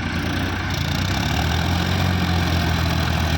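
Farmtrac 60 EPI and Powertrac Euro 50 Plus tractor engines run at a steady, loud, low rumble while pulling out of mud.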